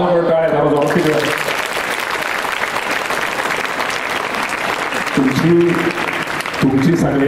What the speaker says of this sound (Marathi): तर वाजवलं टाळ्या जरा जोरात तिकडे